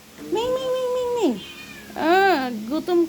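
A hungry house cat meows loudly and close by, two drawn-out cries with a short third one, with people talking around it.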